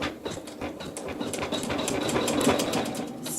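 A sewing machine stitches a quilt in a fast, even mechanical rattle that builds steadily, close and fairly loud, with no talking.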